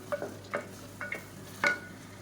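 Green chillies being sautéed in a pan, stirred with a utensil in four separate short scraping strokes with faint sizzling, close and fairly quiet.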